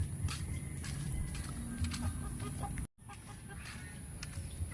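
Several chickens cluck and murmur nearby in a steady, scattered chorus over a constant high hum, interrupted by a brief cut midway.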